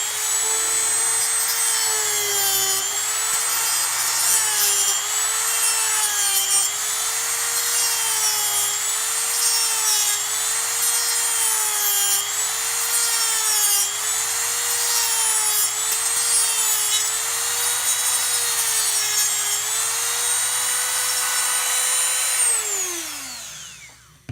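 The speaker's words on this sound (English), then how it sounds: "Now the tool that I use to break these down is going to be our Dremel" A Dremel rotary tool cuts through plastic columns for tabletop objective markers, a loud high-pitched whine wavering steadily in pitch as it works, then spinning down at the end; no talking.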